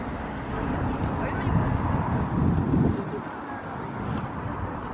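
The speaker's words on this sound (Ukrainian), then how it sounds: "Такий вітер сьогодні холодний." A cold wind buffets the microphone in a steady low rumble, swelling and easing, with faint voices under it.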